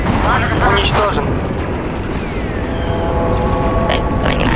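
Heavy artillery explosions rumble continuously in Star Wars Republic Commando, a dense, loud barrage of booms and debris filling the battlefield with a constant low roar.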